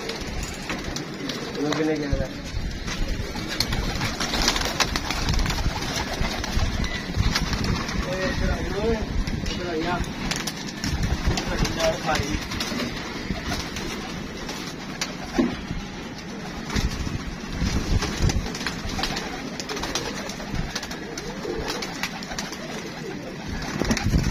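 A pair of grey pigeons coos in soft, repeated throaty calls at close range, with people talking over them throughout.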